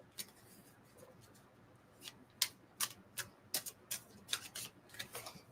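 A Heaven's Guidance card deck is shuffled by hand, giving a run of crisp, close papery riffles and taps that grow busier toward the end, alone without talk.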